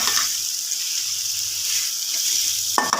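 Bitter gourd frying in a pan with turmeric, a continuous moderate sizzle without talk, ending in a short sharp clatter.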